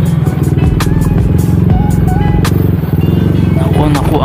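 A Yamaha NMAX scooter rides along with other motorbikes and cars on a barangay charity ride, its engine droning steadily and close throughout, with clattering and a voice talking over it.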